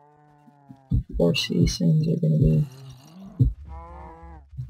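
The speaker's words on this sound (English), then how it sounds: "Cows. Yay, cows." Cows mooing in Minecraft, low drawn-out calls near the start and again near the end, with someone talking over the middle.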